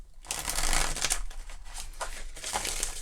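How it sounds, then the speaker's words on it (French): A deck of tarot cards being shuffled by hand, giving a steady stretch of dense riffling and flicking that runs close and fairly loud with short pauses between bursts, with no talking. "je vais bien mélanger le jeu"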